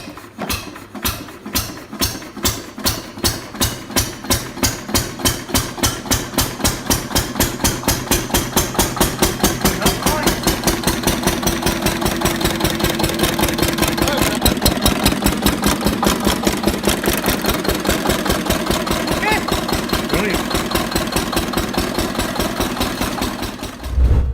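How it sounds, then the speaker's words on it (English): A vintage Lister CS Start-O-Matic diesel generator engine runs with a steady, deep thumping beat. The pulses start slow and spaced, then quicken into an even, loud chugging rhythm heard close and alone. "A steady, pulsing rumble that transports you to another era, classic diesel dependability personified."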